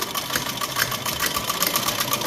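A sewing machine stitching fabric for a baby frock, with a steady, fairly loud rapid whir and needle chatter running continuously and up close without a break.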